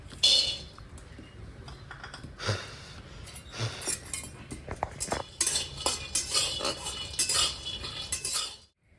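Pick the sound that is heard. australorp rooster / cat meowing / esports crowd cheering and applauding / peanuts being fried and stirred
peanuts being fried and stirred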